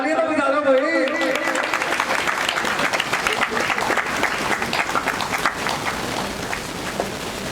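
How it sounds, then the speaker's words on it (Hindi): A crowd claps steadily, a dense patter of many hands that runs on for several seconds and slowly thins, with a voice speaking over the opening moments. "जरा तालियां तो बजा दो भाई।"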